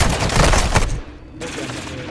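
A brief loud burst of gunfire from the video game DMZ, rapid shots for about a second, then a quieter gap and a fainter follow-up, with no speech.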